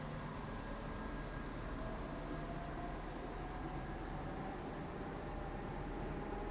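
A Class 170 diesel multiple unit on a Stepford Connect service in the SCR railway game arrives at Ellesmere Junction, a steady broadband rumble and rolling hum that stays loud and even throughout, with no voices over it.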